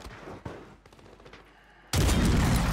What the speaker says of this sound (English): I shot too early.